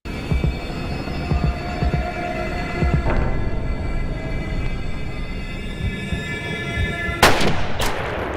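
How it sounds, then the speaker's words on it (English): Police gunfire ending the film Halloween II: heavy booming shots over a dense, rumbling score, with sharp loud bursts near the end. "Second movie in a row that ends with Michael getting shot up by the police."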